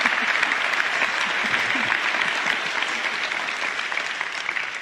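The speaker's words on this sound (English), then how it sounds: "The applause was not for you, Paul Kagame." Audience applause fills the room, a steady, full burst of many hands clapping at moderate loudness that holds evenly before easing slightly at the end, with no talking over it.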